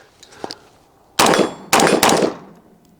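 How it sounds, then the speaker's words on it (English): A rifle firing .223 ammunition: two sharp, loud shots close by, each with a short ringing tail, after a few faint clicks and handling sounds. "I'm going to throw some 223 in here, see how it shoots with that."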